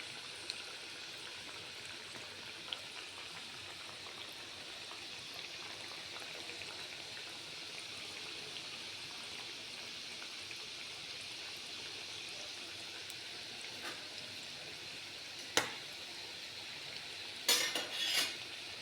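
Batter for Saloni snacks frying in hot oil makes a faint, steady hiss throughout, with a sharp clink near the end followed by a brief clatter of utensils.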